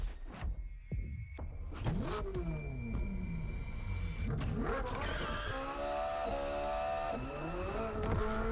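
A Ferrari GT3 AF Corse race car in The Crew Motorfest roars close by, its engine repeatedly revving up through sharp gear shifts, with brief tire squeal and skidding between bursts of acceleration.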